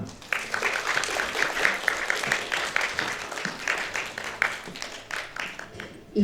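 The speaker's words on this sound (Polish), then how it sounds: "ogromne brawa" Audience applause at a cosplay convention contest, BiforCon 2024, a dense continuous crowd clapping that swells and holds steady for several seconds, with a few voices mixed in.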